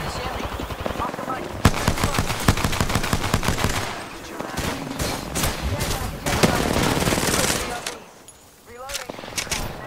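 Rapid automatic gunfire in Apex Legends, loud and close, comes in repeated bursts with brief pauses, while players talk over the shooting.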